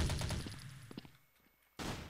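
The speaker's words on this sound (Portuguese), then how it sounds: "Tô aqui, brother. Tomou um tiro" Gunfire in the shooter game Blood Strike: a quick burst of sharp shots at the start, a few scattered later reports, then another loud burst near the end.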